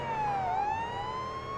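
A police car siren in the Police Simulator: Patrol Officers video game wails, sweeping down and then back up in a smooth cycle, loud and continuous over a low engine hum, with no talking.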